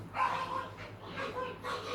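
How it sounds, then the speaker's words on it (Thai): Puppies fighting, with short yips and whimpering yelps in bursts over low background hum, moderately faint and a little distant. "กัดกันจริง ลูกหมาก็"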